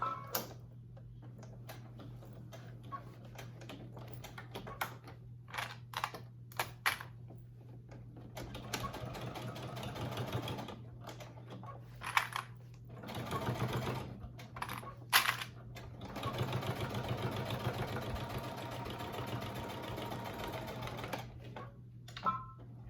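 A domestic sewing machine stitches a small wallet in short, halting bursts of rapid ticking, with a low steady motor hum underneath and quiet pauses between runs.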